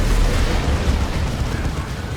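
A melta bomb or krak grenade detonates in a video game battle against a Phobos, a loud, sustained rumbling blast with heavy low-end roar that holds steady for a couple of seconds.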